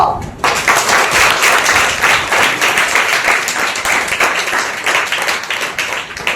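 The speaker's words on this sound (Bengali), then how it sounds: "আমরা কি একটু হাততালি দেব?" Audience clapping at a theatre workshop seminar in Babanpur, a dense, steady round of applause that starts sharply after a brief pause and holds loud and continuous throughout.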